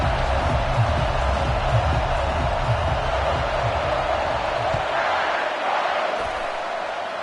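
Stadium crowd at an Alabama college football game roaring steadily at kickoff, a dense continuous wall of cheering that holds loud throughout and eases slightly near the end.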